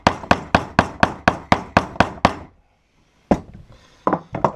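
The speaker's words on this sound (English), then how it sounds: "I like to use this old ball peen hammer." An old ball peen hammer strikes a rivet on a welder's arm guard in a fast run of about ten sharp, ringing metallic blows, then a short pause before a few more hits, close and loud.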